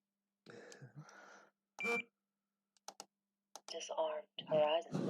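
Radio control transmitter running OpenTX sounding its buzzer, a few short electronic beeps interspersed with speech and clicks, close and moderately loud.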